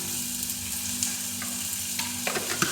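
Onion, curry leaves and dried chilies fry in hot oil for a tempering, a steady close sizzle with a few scattered pops and stirring clinks toward the end.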